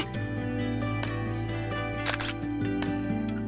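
Camera shutter clicks in the video game Project Sekai during a selfie attempt, a crisp snap standing out once over a dense bed of game music, with a few softer ticks around it and no voices.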